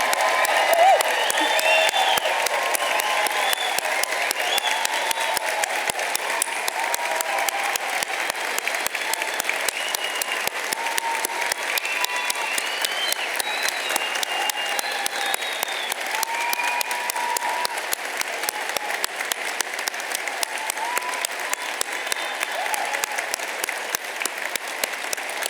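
Sustained audience applause for graduates at the Newport degree ceremony, a large hall crowd of family and friends clapping steadily for about twenty-five seconds, with a few whoops rising above the dense clapping.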